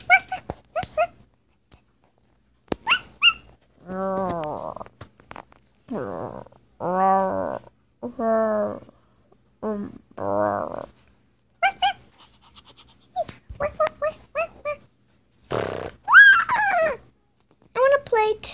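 Cartoon puppy yipping and whimpering in a run of short, high, bouncy barks that come in bursts, with brief pauses between them and livelier yelps near the end.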